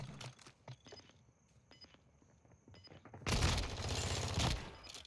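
Shotgun fire and other gunshots in Modern Warfare 2 multiplayer, scattered sharp reports at first, then a dense loud barrage of overlapping shots, no voices.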